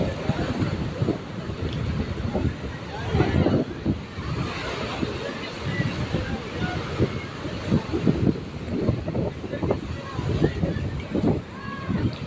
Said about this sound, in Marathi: आता समुद्र आहे ना जास्त खवळलेला आहे